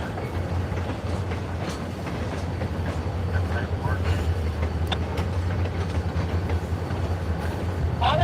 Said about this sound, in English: Here comes our switcher back into the yard.